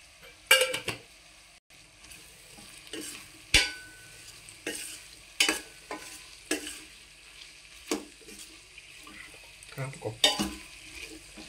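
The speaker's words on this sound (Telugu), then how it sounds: "ఇలా బాగా నూనెలో మగ్గనిచ్చుకోవాలండి ఈ ముక్కలు" Amaranth stem pieces fry in oil with green chilies and chili powder as a spoon stirs them, producing a soft constant sizzle broken by sharp clinks and scrapes against the pan.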